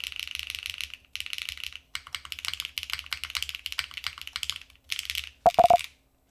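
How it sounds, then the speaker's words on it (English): Rapid clattery keystrokes on a mechanical keyboard fitted with loud HMX Cosmic Purple switches, typed in close bursts with short pauses, ending with a few sharp higher beeps. "The switches are HMX Cosmic Purples. These are loud."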